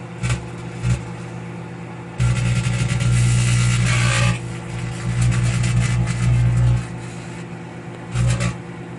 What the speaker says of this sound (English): And this is microwave plasma.